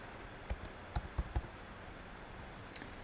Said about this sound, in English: I'm going to go to our text box and I'm going to type in